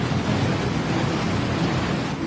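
Swollen Beas river floodwater in Manali rushing in a dense, continuous broadband roar, loud and close, with no voices over it.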